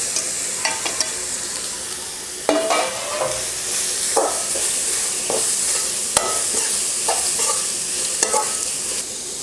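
A quarter kilo of grated carrots frying in a pan with curry leaves and two dried red chillies, a continuous close sizzle broken by repeated scraping stirs of a spoon against the pan.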